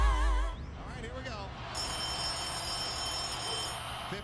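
A telephone rings in a house, its tonal electronic ring starting partway through and holding steady over a voice talking nearby.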